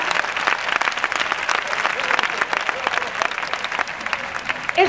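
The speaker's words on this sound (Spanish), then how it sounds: "un aplauso para toda la juventud de Bilbao" A crowd at an outdoor gathering of protesters applauds for the youth of Bilbao, with loud, dense, sharp clapping, individual claps standing out, and faint voices mixed in.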